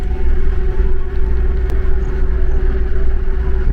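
Steady wind roar fills a Mahindra Bolero Neo cabin with open windows on the busy NH30 highway, a constant rumbling rush of air and road noise without pauses.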